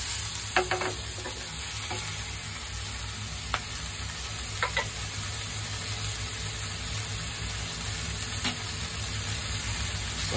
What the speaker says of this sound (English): So I'm going to add the shrimp. And mix proper.